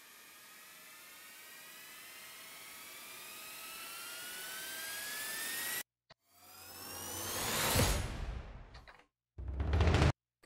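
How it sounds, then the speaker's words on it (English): A long rising swoosh builds steadily in pitch and loudness for several seconds, cuts off abruptly, then a second whooshing sweep swells and ends with a brief burst. "I use the long riser here with some volume automation"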